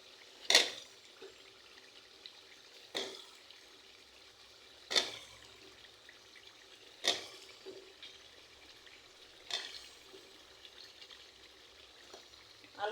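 Chicken with potatoes fries in a pan with a soft, steady sizzle, broken by sharp splashing hisses about every two seconds as the food is stirred or turned. No one speaks.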